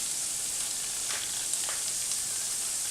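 A Southwest spice blend being stirred into a hot pan for stuffed peppers gives a constant bright, hissing sizzle with a few faint scrapes of the stirring, close and without talk.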